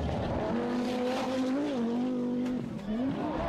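A Group B rally car at Rally Portugal roars past fans with a sustained, rising engine note and a sharp shift near the end, loud and close.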